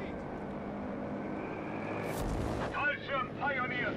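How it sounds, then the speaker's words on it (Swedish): An aircraft flying overhead in Company of Heroes 3, a World War II strategy game, a rising engine roar that swells into a heavy whoosh, with explosive rumbles and voices talking underneath. "Flygplan bara, ja."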